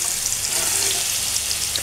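Garlic and chili frying in hot oil ahead of bhetki fish, a steady dense sizzle that stays close and fairly loud with little change across the short stretch.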